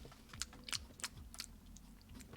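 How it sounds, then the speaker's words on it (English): A person chews food close to the microphone, a series of soft, irregular crunchy bites spaced about every third of a second, quiet and alone with no talking. "could you guys hear my chewing?"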